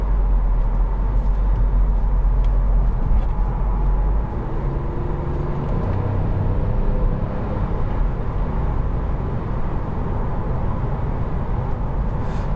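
Kia Rio 1.0 T-GDI mild-hybrid engine holding high revs on a country road, a steady, loud drone with constant road and cabin rumble and no talk over it.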